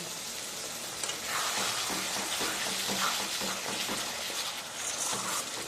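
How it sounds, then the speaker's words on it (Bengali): Ground spice paste sizzles steadily in a pan as the leftover grinding water is poured in for a Bengali potol chingri dish, a continuous close, hissing fry throughout. "মশলাটা বেটে নেওয়ার জলটা এখানে আমি দিয়ে দেবো, দিয়ে দিয়ে ভালো করে কষিয়ে নেব"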